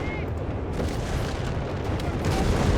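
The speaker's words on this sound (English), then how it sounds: "More explosions." Explosions and artillery strikes rumble continuously in a Company of Heroes 3 battle, with buildings collapsing amid heavy booming, a thick, loud wall of blasts and gunfire.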